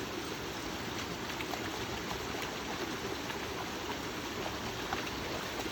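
A waterfall pours into a pond outdoors, making a steady, even rushing hiss that holds unchanged throughout with no voices.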